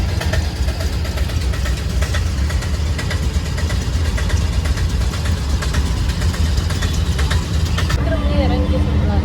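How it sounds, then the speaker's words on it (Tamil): City traffic in Trichy, India, heard from inside a bus: a loud, steady low engine rumble and idling drone fills the scene continuously, with road noise throughout and a faint voice near the end. "திருச்சி டிராஃபிக்."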